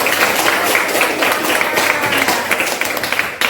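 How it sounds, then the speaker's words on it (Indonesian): Steady applause from a roomful of schoolchildren in a classroom, a dense even patter of many hands clapping at once, fading slightly near the end. "Tepuk tangan."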